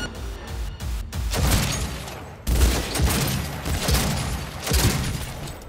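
Gunfire in the video game Cyberpunk 2077: loud, dense bursts of automatic fire that come in waves with short pauses between volleys, mixed with impacts and clatter.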